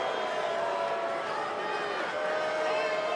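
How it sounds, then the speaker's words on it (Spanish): A huge arena crowd in Detroit boos Roman Reigns at a SummerSlam 2023 wrestling event, a dense, unbroken roar of jeering that holds steady throughout with a commentator talking over it. "el abucheo es masivo y general para el cabecera de la mesa"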